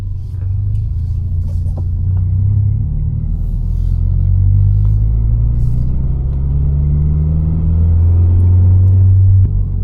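A 2024 Subaru BRZ with a loud aftermarket exhaust drives along, its deep droning rumble steady and close, with the exhaust note sliding up and down in pitch as the revs shift.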